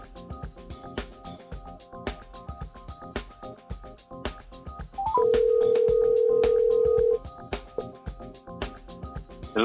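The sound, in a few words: telephone call being placed and ringing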